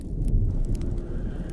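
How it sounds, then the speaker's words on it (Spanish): Heavy rain pours with a low rumble of thunder, a dense continuous wash with some brighter drop impacts and a deep roll underneath, loud and steady with no voices. "Sentí que afuera llovía con mucha intensidad."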